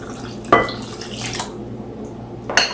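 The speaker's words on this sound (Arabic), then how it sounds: "نحط المي سخنة" Hot water poured onto fine bulgur for Aleppo-style kibbeh, a short splash and trickle into a bowl with a couple of clinking kitchen knocks, close and clear.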